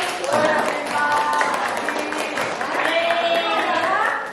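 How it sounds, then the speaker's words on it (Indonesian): Audience applause at an Indonesian school curriculum festival event, a steady wash of clapping lasting several seconds with voices and cheering mixed in. "Oke, berikan aplaus bagi"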